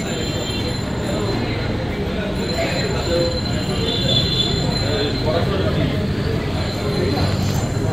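A diverted passenger train pulls out of a station, its wheels squealing steadily over a loud, continuous rumble of railcars rolling close by.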